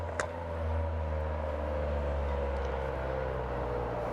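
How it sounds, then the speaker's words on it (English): A Toyota Aygo engine drones nearby at a steady low idle-like hum with tonal harmonics, holding an even level for several seconds after a brief click at the start. "That was a Toyota Aygo making that noise"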